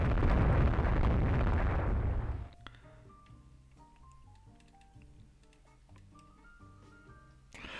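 18-inch battlecruiser guns firing in the naval strategy game Rule the Waves 3: a loud, rumbling broadside blast sustained for about two seconds, then dropping away into quiet tonal game sounds.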